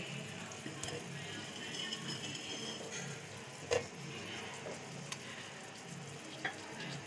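Potatoes, biryani masala and bay leaves go into hot oil in a pot while cooking a chicken vegetable pulao, giving a steady, moderate sizzle with a few sharp clinks of a utensil against the pot.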